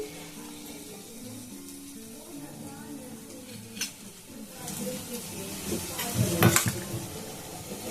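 Potato dahi bara fritters fry in hot oil in a home kitchen, a soft sizzle and bubbling with some stirring and clatter, rising to louder crackling bursts toward the end.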